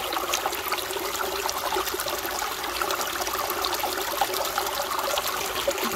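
Water running steadily through a gold prospecting sluice box set in a stream, a continuous close trickling and rushing flow with no break.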